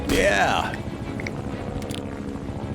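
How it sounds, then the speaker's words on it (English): Helicopter in the Metal Gear Solid V video game, a loud rotor-and-engine roar at the start that fades to a steady lower drone, with a brief spoken word over it. "I'll knock out this helicopter with my rubber bullets"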